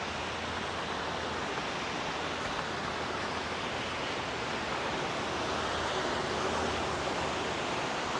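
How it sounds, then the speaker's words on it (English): A waterfall along the Historic Columbia River Highway State Trail, heard as a steady, dense broadband rush of falling water that holds unbroken and fairly loud throughout, with no voices. "But here's a waterfall."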